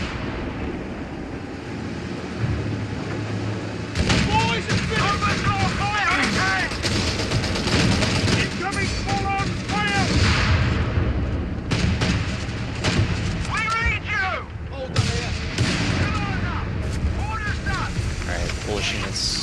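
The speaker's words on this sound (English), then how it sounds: "Good rifle nade from Reekley." Company of Heroes 3 battle audio: repeated gunfire bursts and booming explosions, a rifle grenade among them, rumble close and loud under near-continuous excited commentary.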